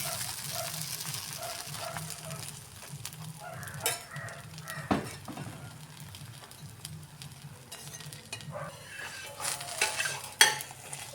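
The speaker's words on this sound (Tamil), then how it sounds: "அதை நல்லா இதுமாரி கரண்டியால் தள்ளி தள்ளி கொண்டு வந்தீங்கன்னா அடை வந்து மெலிசாக வந்துடும்" Tapioca adai batter being spread thin with a ladle on a hot pan, a quiet steady sizzle with intermittent scrapes and clinks of the ladle against the pan, and no voices.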